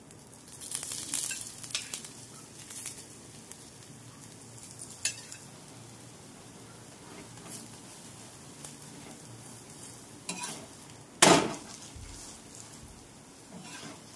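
Sorghum (jowar) flatbread dhirde frying in oil on a pan gives a soft, steady crackle and sizzle, with brief louder scrapes near the end.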